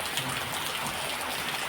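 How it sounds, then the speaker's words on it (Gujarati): Heavy rain pours down steadily on a farm homestead, a continuous close hiss of drops striking surfaces with no break, and no voices are heard. "મિત્રો કેટલો વરસાદ શરૂ છે."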